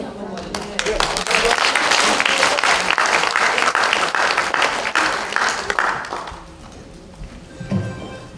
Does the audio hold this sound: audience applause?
yes